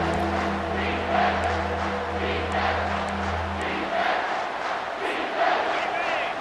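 A stadium crowd at a Utah college football game roars and chants steadily, a dense sustained wall of voices with rhythmic surges from the stands.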